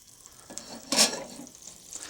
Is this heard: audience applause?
no